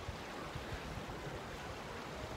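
Sea waves wash onto an Italian beach in a continuous, even roar of surf with wind noise.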